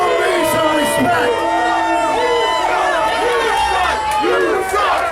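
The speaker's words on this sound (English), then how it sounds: "You guys cheer for him one more time." A wrestling event crowd cheers and shouts loudly and continuously, a dense wall of voices and whoops filling the whole span.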